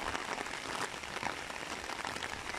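Steady rain falls at a coconut-gathering site, a dense broadband patter hissing evenly throughout with no voices.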